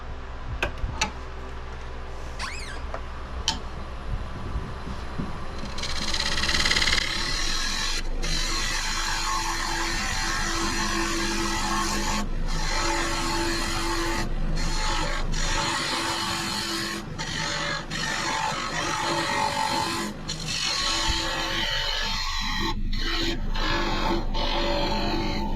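A 5/8 bowl gouge cuts into a cedar crotch log spinning on a wood lathe, with a steady rough scraping and a hum that carry on loudly and without pause for most of the stretch, broken by sharp ticks and knocks.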